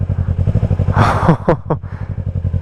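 An R3 streetfighter motorcycle pulling away in first gear: a loud close pulsing engine thump that rises briefly in pitch as the throttle opens, with short whooshing and a rattly clatter midway.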